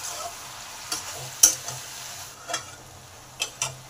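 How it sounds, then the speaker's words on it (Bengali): Malabar spinach being stirred with vegetables in a frying pan, producing a soft background sizzle broken by several sharp scraping clicks of a spatula at irregular intervals, close by and with no talking. "শাকটাকে ভালো করে সবজির সাথে মিশিয়ে দিই।"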